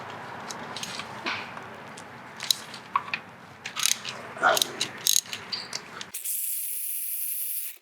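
A hand ratchet loosens 12-point transmission bolts on a 2009-2013 Audi A4 B8 CVT, giving quick clusters of sharp clicking and ratcheting, each burst separated by short pauses. A louder steady hiss cuts in near the end.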